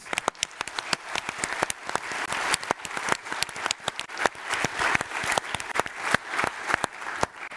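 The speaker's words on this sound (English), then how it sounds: "Then another big round of applause to our video team" An audience at a network operators' conference closing claps loudly with sharp individual claps standing out, continuous applause throughout with no talk.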